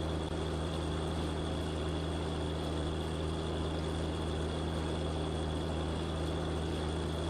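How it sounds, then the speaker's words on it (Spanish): Case tractor engine idling steadily in a cotton field during weeding work, a constant low rumble with a droning hum, close and unbroken throughout, no talk. "Buen tractor."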